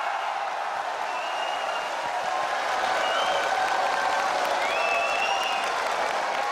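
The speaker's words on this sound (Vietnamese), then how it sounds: "nếu như quý vị mà vỗ tay thì cô cảm thấy an ủi hơn" Audience applause at a traditional Vietnamese cải lương music show, steady sustained clapping from a crowd filling the whole stretch without pause.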